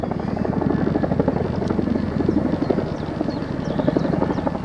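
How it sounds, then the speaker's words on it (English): A Chinook helicopter flying over countryside, its rapid rhythmic rotor thudding steady and moderately distant throughout, heard alone. "Chinook."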